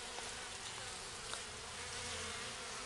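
A dense, steady buzzing of many honeybees close by inside a hive box after a colony cut-out removal, continuous and fairly quiet with no voices.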